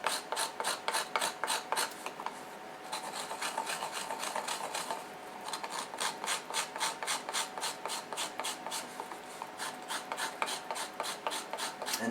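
Pigment being ground on a grater into fine powder, heard as steady rhythmic rasping strokes, close and fairly even, with a brief pause partway through and no talk.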